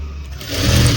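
A sewing machine motor hums low and steady, swelling louder over about a second as it runs a tension test stitch along a strip of dori fabric, with no talking.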